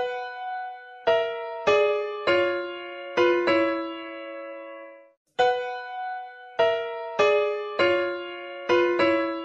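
Two violin parts from Tchaikovsky's Sixth Symphony sound together, interleaved bowed notes forming a single melodic line, played twice with a short pause between the passes, clear and close.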